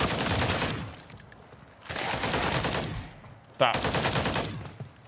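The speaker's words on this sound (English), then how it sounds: "They're already shooting at me, bro." Three separate bursts of rapid automatic gunfire in Modern Warfare 3 Zombies, each lasting over a second with brief quiet gaps between them, fairly close. A voice speaks a single short word partway through.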